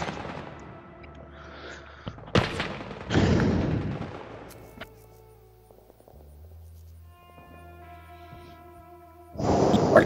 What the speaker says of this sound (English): Artillery coming in B.